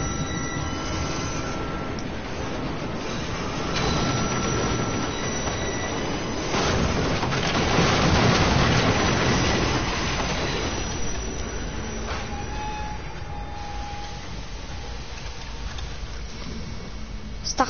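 A metro train rolls past close by, its wheels screeching and squealing on the rails over a continuous rumbling roar that swells near the middle and eases off toward the end.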